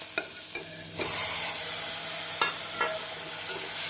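Ginger garlic paste sizzles and fries in a hot pan, a steady hiss that swells louder about a second in, with a few sharp scraping stirs.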